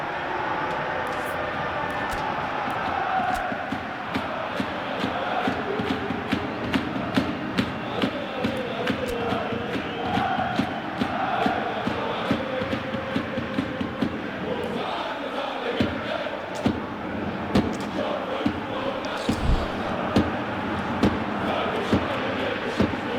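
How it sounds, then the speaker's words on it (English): Stadium crowd in a football video game roars steadily with applause, a loud, dense wash of cheering and chanting that carries on without a break, with occasional sharper peaks rising out of it. "Crowd appreciation for Diaby for his contributions to the game so far."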